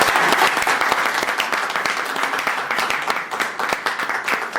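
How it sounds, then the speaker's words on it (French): A large concert crowd at the Zénith in Paris breaks into sustained applause, loud and dense with many hands clapping at once and a faint crowd murmur underneath. "Est-ce qu'on peut s'applaudir s'il vous plaît?"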